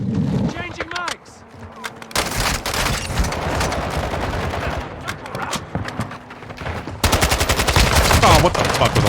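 Gunfire in the shooter game Call of Duty Warzone 2.0: loud, rapid bursts of automatic fire with sharp single shots, broken by brief lulls and a voice talking over the action.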